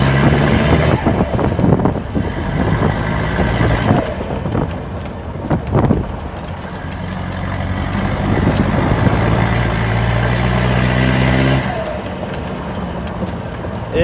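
Mahindra Roxor off-road vehicle driving with a steady engine drone and rough low rumble, wind buffeting the microphone throughout, the engine note shifting pitch as it changes speed and dropping off near the end.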